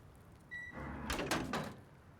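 A bunker door in the Rust video game opens with a short tone, then a grinding metallic slide of about a second that fades away, fairly quiet and with no voices.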